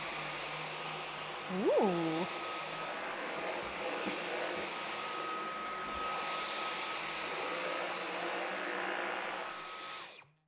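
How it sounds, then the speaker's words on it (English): A Dyson V12 Detect Slim cordless vacuum cleaner picking up dog hair, a steady high-pitched whine and airy roar running continuously close by before cutting off at the end, with a brief exclamation from a voice early on. "this Dyson V12 Detect Slim will take care of it all"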